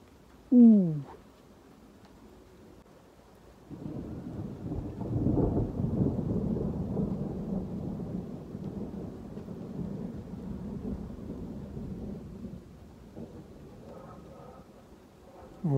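Thunder rolls through a moderate thunderstorm in Bordeaux: a long, deep, loud rumble that swells and lingers for several seconds, preceded by a brief chirping call, with a fainter rumble returning near the end.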